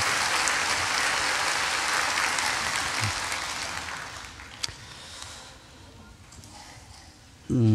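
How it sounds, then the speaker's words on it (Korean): Church congregation applauding in praise during a Sunday worship service marking the church's 21st anniversary, a full sustained wash of clapping that thins out toward the end before a voice cuts in. "하나님께 우리 영광의 박수 올려드리겠습니다"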